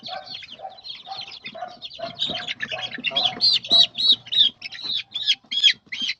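Large-breed and native chickens cluck and squawk close by in a rapid series of calls that grow louder and sharper toward the end.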